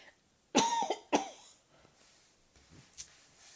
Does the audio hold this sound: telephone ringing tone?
no